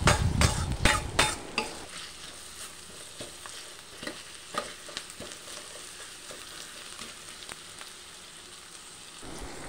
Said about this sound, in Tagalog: So, fry na muna natin yung sibuyas.